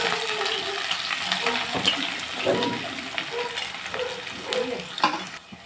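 Onions and chillies frying in hot oil, with a loud, continuous crackling sizzle and intermittent stirring clatter, close up throughout.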